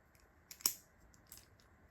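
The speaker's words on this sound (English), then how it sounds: "which you can probably hear right now with all the clicking" Faint, sparse clicks sound close by in a quiet room, a few sharp taps spaced out over a couple of seconds.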